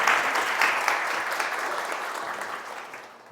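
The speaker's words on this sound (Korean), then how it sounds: "다시 한번 큰 박수 부탁드립니다." An audience at a Korean public event attended by an education superintendent gives a full, even round of applause that swells briefly, then gradually thins and fades.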